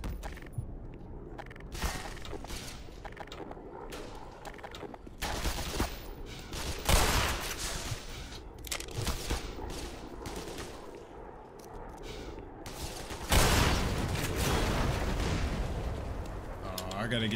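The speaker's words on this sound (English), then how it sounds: "I'm shooting you right in your face" Gunfire in the video game Black Mesa: dense, loud bursts of rapid shots and heavier blasts come in repeated volleys, with brief lulls between them throughout.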